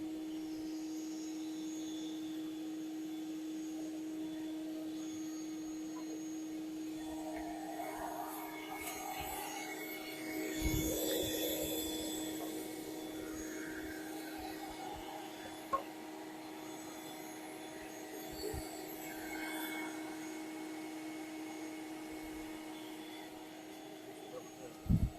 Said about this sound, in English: So in order to keep the bees cool, we do have to keep the vacuum going.